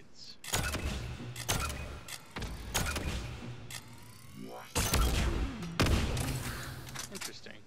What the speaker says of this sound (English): I think this is a shotgun. Apparently fires cluster grenades.